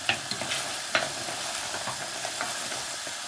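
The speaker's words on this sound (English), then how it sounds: "this cooking method, you always want to keep stirring, for the simple reason that at the beginning, all you've got is basic sugar" A spoon stirs sugar syrup in a pan, with steady bubbling and soft scraping and a few sharper clinks near the start and just before the one-second mark.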